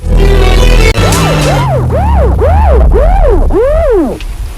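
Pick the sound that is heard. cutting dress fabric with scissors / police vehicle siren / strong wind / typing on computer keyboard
police vehicle siren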